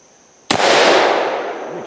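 A single loud gunshot cracks from an 1858 New Army revolver fitted with a .45 Long Colt conversion cylinder, its sharp report followed by a long, fading outdoor echo.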